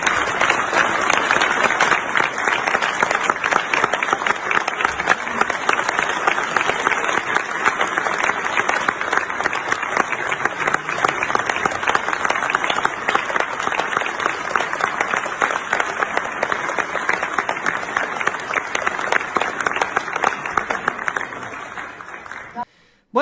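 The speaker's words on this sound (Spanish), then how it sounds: "Y ahí podemos ver justamente los aplausos" Theatre audience applauding as López Obrador enters, a dense, steady wash of clapping that holds for over twenty seconds before cutting off abruptly.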